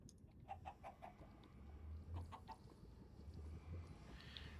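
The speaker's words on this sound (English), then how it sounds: "The chickens spawn." Minecraft chickens clucking in soft, repeated short bursts, fairly quiet over a steady low hum of background game sound.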